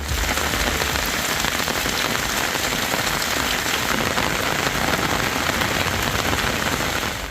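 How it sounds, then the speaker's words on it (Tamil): Heavy rain beats down loudly and evenly on surfaces across the Vaniyambadi area of Tirupattur district, a dense continuous patter with no breaks and no speech. "திருப்பத்தூர் மாவட்டம் வாணியம்பாடி சுற்றுவட்டார பகுதிகளில் பரவலாக கனமழை வெளுத்து வாங்கியது."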